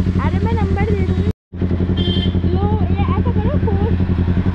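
A motorcycle engine runs steadily close by, a constant low rumble with a short drop-out midway, under continuous conversation.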